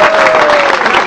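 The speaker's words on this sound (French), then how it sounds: "applaudis les gars" Loud, steady applause from a crowd at a political rally evening fills the whole stretch, with a sustained tone running underneath the clapping.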